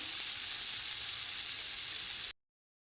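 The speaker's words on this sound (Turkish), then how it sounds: "Evet domatesleriniz 1-2 dakika böyle sıcak tavada çevirirseniz yeterli olacaktır." Dried tomatoes turned in a hot pan give off a steady, fine sizzle, even and moderately quiet, with no voices, until it stops abruptly near the end.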